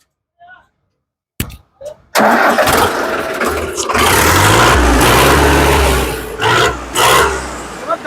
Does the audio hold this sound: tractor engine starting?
yes